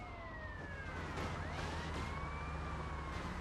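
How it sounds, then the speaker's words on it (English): A police car siren in a video game wails continuously and loudly, its rising and falling tones sweeping over a steady engine rumble, with no talking. "Just sirens."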